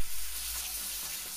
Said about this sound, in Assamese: মছলাখিনি এতিয়া খুব ধুনীয়াকৈ ভাজিব লাগিব, লৰাই থাকিব লাগিব যাতে তলত লাগি নাযায়।